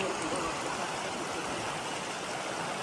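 A river in the Sahyadri hills near Sudhagad rushes with monsoon water, giving a steady, soft broadband wash with no clear voices.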